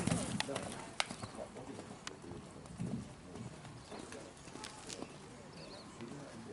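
A horse walking under saddle, faint hoofbeats clopping in an uneven rhythm at a distance, with birds cooing in the background and occasional thuds.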